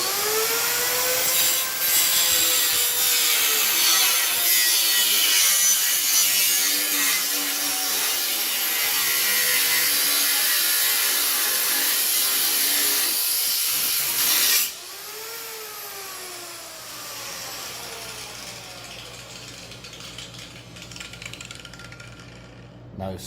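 An angle grinder cuts into parts during the teardown of a Yamaha YZF-R6 being built into a custom café racer. Its loud, continuous grinding whine shifts in pitch, then drops to a quieter but steady cut about halfway through.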